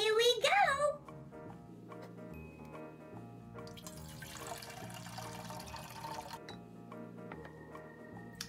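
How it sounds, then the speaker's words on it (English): Toy magic tea poured from a pretend teapot into a cup at a Disney Princess tea party, a soft pouring hiss in the middle of the clip under steady background music, after a brief high voice at the start. "why don't you pour up Pocahontas a cup of magic tea"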